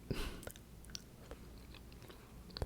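Jelly beans chewed up close in a quiet ASMR setting, with a crisp bite at the start followed by soft, wet, intermittent chewing and small mouth clicks, loud and intimate with no talking.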